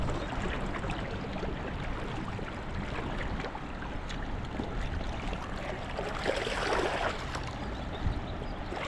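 A strong river current runs steadily throughout, a continuous broadband rush of fast-flowing water with no breaks and only a slight swell near the end.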